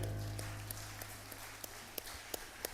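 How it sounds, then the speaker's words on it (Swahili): A church congregation claps at a Swahili consecration prayer service, heard as faint, distant scattered claps over a low steady hum, spaced out in a loose rhythm. "Umependeza sana na kupigia makofi ya hapa mbele."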